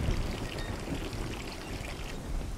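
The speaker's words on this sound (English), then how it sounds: "we should be able to turn the water on" Water turned on and pouring steadily in the Mountain Crime: Requital video game, a constant soft rushing stream with no talk, fairly quiet throughout.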